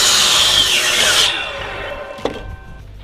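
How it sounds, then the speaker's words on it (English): A miter saw slices a 45-degree angled cut through wood for a home power rack build. One loud whining cut runs for about a second and a half, then the motor spins down and the blade clunks to a stop. "The nice thing about having a miter saw is you can make 45-degree angled cuts."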